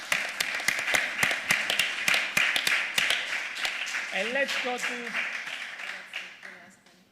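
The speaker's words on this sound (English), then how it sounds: "But let's clap for the effort." An audience at a conference in Siena on the future of Europe claps, sharp close claps that gradually thin out before a voice begins speaking over the fading applause.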